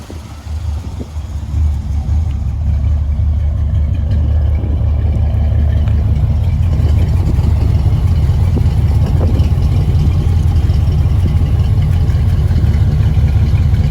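A 1968 Chevrolet El Camino's loud, deep exhaust rumble builds as the engine revs up and then holds a heavy, steady throb, close to the microphone.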